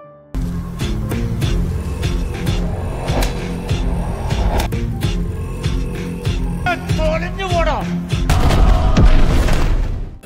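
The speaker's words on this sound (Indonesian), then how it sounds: "Dengan keren, Esa pun memberondong para pasukan Inggris itu." Bursts of gunfire and booming blasts ring out in rapid succession over a busy background, with louder, denser firing near the end, from a film scene of British soldiers being strafed.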